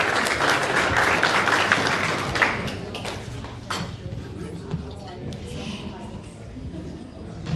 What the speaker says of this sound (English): Please, a huge round of applause for Charbel.